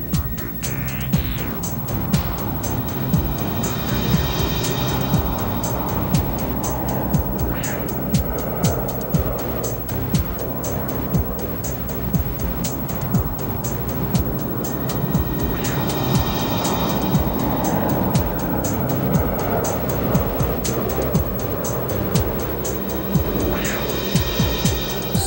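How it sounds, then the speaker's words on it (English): B-2 Spirit stealth bomber flying overhead, a steady broad aircraft roar that stays loud and constant throughout, with no clear rise or fade. "The B-2 Spirit, the controversial invisible stealth bomber."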